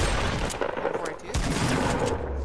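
Scoped revolver shots ring out in Fortnite, sharp close cracks over a busy game soundscape, with a brief lull mid-clip before the action resumes.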